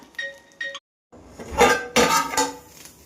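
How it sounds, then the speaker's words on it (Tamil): A metal lid clanks onto a one-pot coconut milk chicken biryani, then a weight is set on top, giving a couple of close metallic clinks and rattles after a short pause. "மூடி போட்டு மேலே வந்து வெயிட் வச்சுக்கலாம்"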